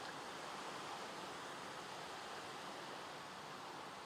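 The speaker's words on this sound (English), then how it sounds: "goodness, this rain is irritating" Steady Minecraft rain, a continuous even hiss with no breaks or variation, soft and heard alone.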